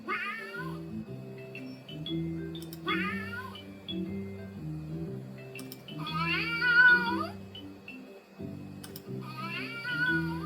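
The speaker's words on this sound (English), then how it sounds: "There you go, your generic cat sound effect." A generic toy cat meows in several rising, wavering cries, roughly one burst every three seconds, close and clear over a steady low musical hum.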